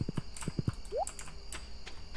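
Horse hooves clip-clop in quick, close steps in the farming video game Stardew Valley, a few soft thuds followed by a short rising tone, with no talk over them.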